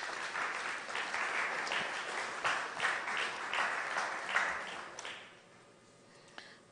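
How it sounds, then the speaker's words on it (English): Audience applause at a conference opening ceremony for presiding officers and clerks, a full, even clapping with slight swells that runs about five seconds, then fades into quiet room tone. "I would like you to give them a special round of applause for that"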